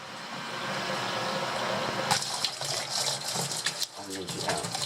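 Running water gushing and splashing as filters are rinsed out under a tap, a steady broadband wash with louder spurts and clatter in the second half, close by.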